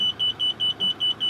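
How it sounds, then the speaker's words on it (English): A Land Rover Defender's reversing parking sensor emits a steady run of high-pitched electronic beeps, seven evenly spaced pulses in quick succession, clear and close inside the cabin. "you can hear that the audible buzzer is a little bit higher pitched and a more continuous tone"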